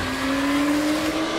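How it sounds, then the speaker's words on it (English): An electric-converted classic race car accelerates hard, giving a steady, close whine that climbs slightly in pitch over a continuous road roar, with no voices. "This car is capable of doing over 60 miles an hour in less than 2 seconds."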